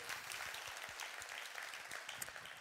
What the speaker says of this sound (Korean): 박수 한번 드리시죠.